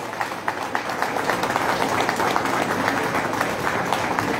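Loud, dense applause from an audience at an award ceremony, a sustained wash of many hands clapping steadily throughout, close and full, with no pauses.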